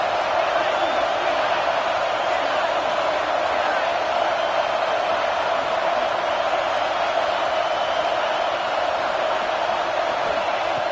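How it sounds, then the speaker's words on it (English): Home crowd at a football game roaring steadily for about eleven seconds, a dense loud wash of cheering voices from a packed stadium. "this home crowd is fired up and ready to make a difference today"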